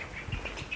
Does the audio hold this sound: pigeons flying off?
yes